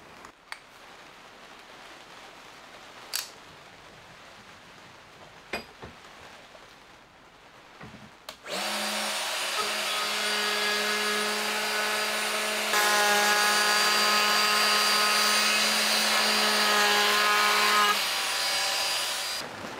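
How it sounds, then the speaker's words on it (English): A loud, steady high-pitched whine of a small 12-volt Bosch cordless router rounding over a wooden card box edge starts partway through after quiet background, holding its tone for about ten seconds. "I'm going to get my little 12 volt Bosch router out and add one."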